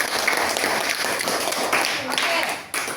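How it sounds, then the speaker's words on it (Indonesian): A classroom of students claps for a group after its answers, giving dense, steady applause with loud crackling hand claps and some voices mixed in throughout. "Tepuk tangan lagi untuk kelompok"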